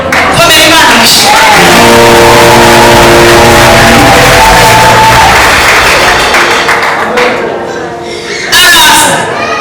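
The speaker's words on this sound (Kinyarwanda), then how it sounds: "komera imana amashyi" A church congregation in Rwanda breaks into loud, sustained applause, dense clapping mixed with shouted and sung voices that fills the space, dips briefly, then swells again near the end.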